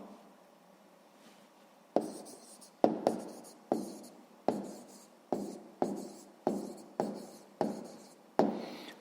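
A pen scratching on paper in quick separate strokes, about a dozen short bursts in a steady rhythm, close and fairly quiet with no voices.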